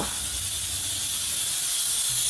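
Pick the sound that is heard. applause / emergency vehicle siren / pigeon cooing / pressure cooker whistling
pressure cooker whistling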